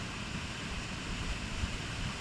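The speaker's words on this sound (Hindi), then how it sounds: "तो आप देख सकते हैं कैसे बढ़िया एकदम नेचुरल झरने के नीचे नहा रहा है।" A natural waterfall at Shitla Mata near Indore pours in a steady, dense hiss of falling water, close and unbroken, with no voices.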